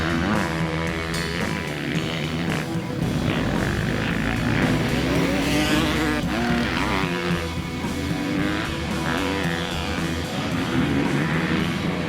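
A 2020 Suzuki RM-Z 250 dirt bike ridden hard, its engine buzzing loudly and steadily near the listener, with pitch rising and falling through frequent shifts across the whole stretch.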